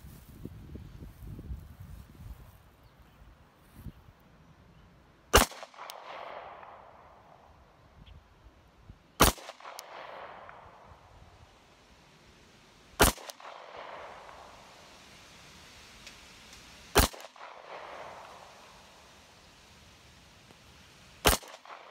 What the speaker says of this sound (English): I'm just gonna do a 12-shot group here on a 2-inch square